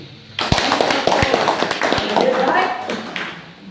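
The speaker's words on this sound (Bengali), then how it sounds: "মালবারে এবার জন্য হাত তালি দিন" An audience bursts into applause at a motivational lifestyle seminar, a sharp run of claps and taps starting after a brief pause and continuing steadily, with a speaker's voice mixed in.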